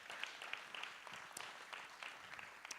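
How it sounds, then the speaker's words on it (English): An audience applauds a panel at a citizens' assembly anniversary dialogue, soft scattered clapping at a distance, faint and continuous with occasional sharper claps. "Let's give our panel a round of applause."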